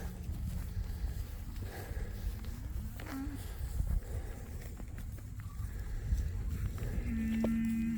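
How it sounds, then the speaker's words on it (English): Cattle low and moo from several directions over a steady outdoor rumble, with one drawn-out call rising clearly near the end. "Look at all the cows come"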